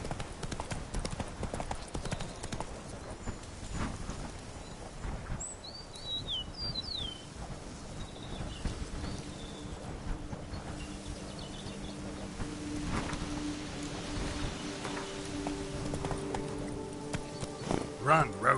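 In The Witcher 3: Blood and Wine, the horse Roach gallops with a steady, rhythmic clip-clop of hooves. Birds chirp in the background and a voice speaks over the hoofbeats.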